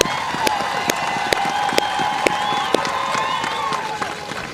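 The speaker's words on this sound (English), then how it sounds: "how about a round of applause for Pleasant Grove's own Michael Walker" A crowd at a Pleasant Grove pregame show applauds a retiring honoree, Michael Walker, with sustained clapping and cheering plus sharp individual claps standing out throughout.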